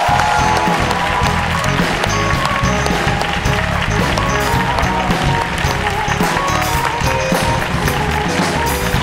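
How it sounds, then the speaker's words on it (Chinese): A talk-show studio audience breaks into applause as a guest, a former women's basketball player, walks on. The clapping is loud and continuous and sits over band music and a busy, thumping backdrop. "让我们来掌声欢迎漂亮宝贝钱薇娟"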